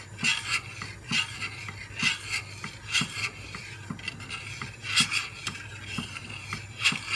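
A spoon scrapes and rubs against the bottom of a pot of pudding cooking on the stove, in steady rhythmic strokes roughly twice a second, close and clear with no talking.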